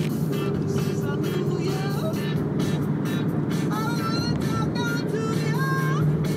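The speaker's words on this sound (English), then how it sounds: "getting all these cars back onto the 10 with all of this traffic" Camaros in a rally drive back onto busy freeway traffic on the 10, with a constant, close engine and road rumble and passing vehicle noise throughout.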